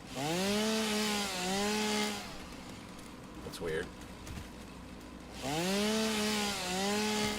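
A video game chainsaw revving and cutting in a crystal computer factory, a loud buzzing engine drone that rises and falls in two long bursts with a quieter gap between, with someone speaking briefly.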